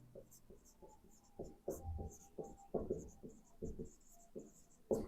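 A pen scratches on paper in short, quiet strokes and bursts of scribbling, close and faint, during a Class 10 geography lesson with a soft voice underneath.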